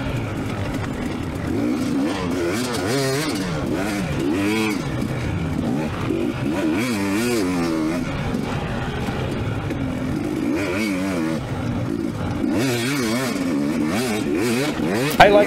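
Dirt bike engines race at a 2025 Super Senior B spring hare scramble on an MX track: a close two-stroke-style engine revs and winds up and down continuously, with rattling clatter throughout.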